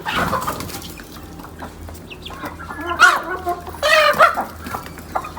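Chickens cluck and squawk close by, with a rooster's agitated calls rising in short bursts over a quiet farmyard background.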